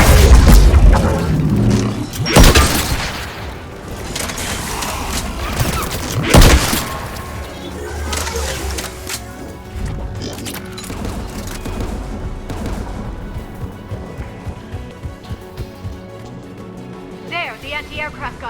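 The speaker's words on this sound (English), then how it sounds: "There, the anti-aircraft guns." Anti-aircraft guns firing in Mass Effect 3, heavy booming blasts near the start followed by a rumbling battle din, with voices speaking over it.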